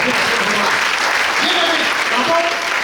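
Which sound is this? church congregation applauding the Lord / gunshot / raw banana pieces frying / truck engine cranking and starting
church congregation applauding the Lord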